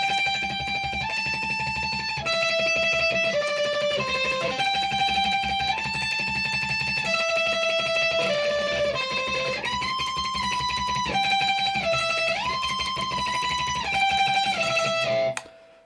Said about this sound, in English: the next line is going to play like tremolo picking